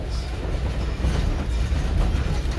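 A train on the Virginia City railroad rumbles steadily and loudly, with continuous wheel and track noise carrying through the whole stretch.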